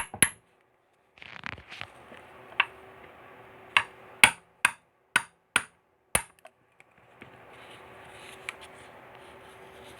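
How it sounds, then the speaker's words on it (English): Hammer lightly tapping a socket to seat a valve cover oil seal on a Honda Odyssey/Pilot engine, a series of crisp, close metallic taps with short pauses between them, quiet background in between. "With the hammer, slightly tap, tap, tap."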